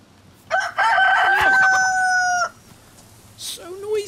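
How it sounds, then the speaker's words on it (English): A rooster in the video game DayZ crows one long, loud, drawn-out cock-a-doodle-doo close by, and a shorter call follows after a brief pause. "Do you hear that cock-a-cock-a-cock-a-doodle-do?"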